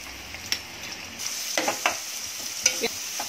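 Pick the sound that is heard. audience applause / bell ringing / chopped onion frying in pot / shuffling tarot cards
chopped onion frying in pot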